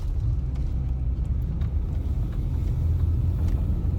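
A car driving along a road, heard from inside as a steady low rumble of engine and tyres that holds level throughout.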